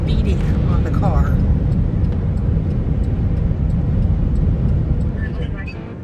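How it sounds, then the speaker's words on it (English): Strong wind buffets a car on the salt flats in a salt storm. It is a loud, steady low roar and rumble against the body that runs the whole time and eases slightly near the end. No one speaks. "And literally, the wind is just beating on the car."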